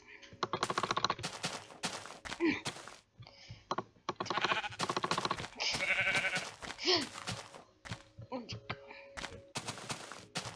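Sheep in Minecraft bleat in short bursts amid rapid clicking and hitting noises as someone attacks them, with a voice talking over much of the action.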